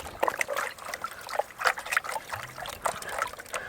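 Water trickles and sloshes over gravel in a gold pan, with irregular splashy bursts of washing and swirling, close and moderately loud, no talking.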